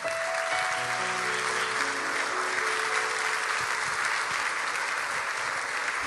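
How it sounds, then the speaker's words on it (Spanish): Church congregation applauding after a closing prayer, a steady dense wash of clapping lasting throughout, with faint tonal music or organ notes underneath. "Denle un aplauso al Señor."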